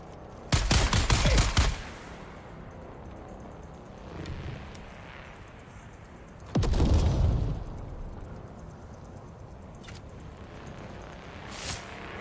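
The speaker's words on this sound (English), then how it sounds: "Tossing grenade!" A grenade explosion and gunfire in the Dune video game: two loud blasts with bursts of fire, several seconds apart, separated by a quiet stretch with faint distant shots.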